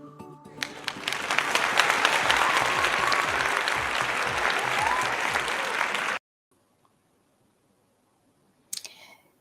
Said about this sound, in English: let's welcome to the stage with a round of applause, Equia Safo.